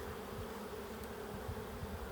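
Honeybees buzz around their hive in a steady, droning hum, several insects close by with no voices.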